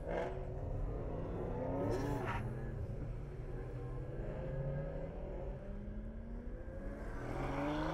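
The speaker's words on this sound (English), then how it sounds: "Mustang is revving its engine." Ford Mustang engine revving at Buttonwillow Raceway, a steady loud drone of engine noise that rises in pitch near the end, heard alone without talk.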